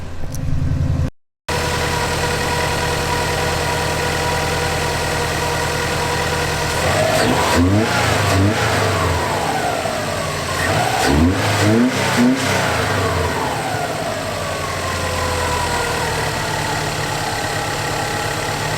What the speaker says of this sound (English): I'll see if the idle drops and we'll give it a couple of revs